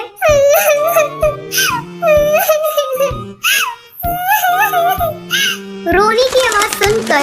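A cartoon sparrow cries in a high, childlike whimpering voice, with repeated wailing sobs broken by short pauses and a burst of faster, breathier crying near the end.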